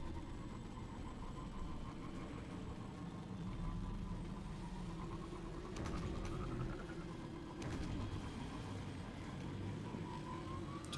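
Steady humming drone of the Time Breaker sparrow hoverbike engine in Destiny on Venus, continuous and close, with a slowly rising whine and a couple of brief sharp knocks.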